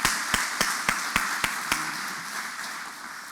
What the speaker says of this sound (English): So round of applause again for all of them.